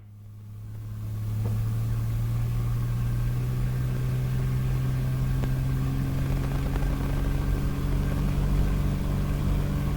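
Small plane engine throttling up for takeoff on a runway, a steady droning rumble that swells over the first second and a half then holds loud and constant, heard from inside the cabin.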